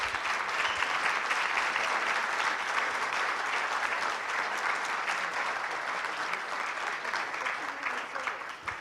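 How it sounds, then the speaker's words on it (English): An audience at a community forum for superintendent finalists gives a sustained, dense round of applause, holding steady for several seconds before easing off slightly at the end. "Let's give them a round of applause."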